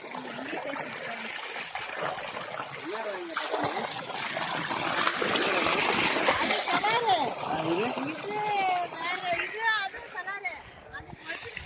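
Water splashing and gushing from a 3 hp solar-powered pump at a farm, a continuous spattering flow beneath people talking throughout, swelling midway.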